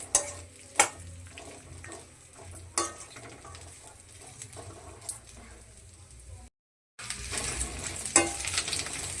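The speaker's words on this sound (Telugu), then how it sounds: "ఇవి కూడా ఫ్రై అయిపోయినాయండి, తీసేసుకుందాము" Food sizzling and frying in a pan at a home kitchen, with scattered clinks of a spoon or pot and a brief gap of silence near the end before the sizzle resumes.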